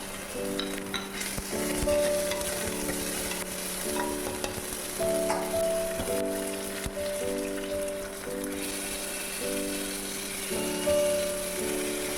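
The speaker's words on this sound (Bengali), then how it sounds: "তার মধ্যে আমি অ্যাড করব কেটে রাখা সবজিগুলো" Chopped vegetables for a dalia khichdi fry loudly in a pan, a dense, constant sizzle with bursts of stirring, close up and unbroken for the whole stretch.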